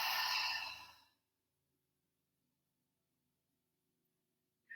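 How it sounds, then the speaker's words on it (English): A single deep breath is let out in a close, breathy rush lasting about a second, followed by near silence and a faint soft sound at the very end. "taking a deep inhale through the nose and a deep exhale through the mouth"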